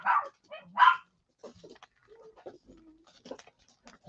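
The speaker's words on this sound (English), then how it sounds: "That's a happy bark." A pet dog barking excitedly, two loud bursts near the start followed by quieter yips and whines, with softer sounds and a little talk afterward.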